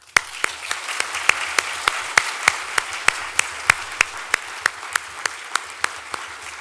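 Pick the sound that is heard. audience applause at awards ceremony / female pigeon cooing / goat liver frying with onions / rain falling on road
audience applause at awards ceremony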